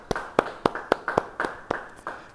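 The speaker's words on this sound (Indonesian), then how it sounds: "beri tepuk tangan bagi Tuhan" A church congregation claps in a steady, even rhythm, about nine distinct claps in quick succession, moderately near with no talking.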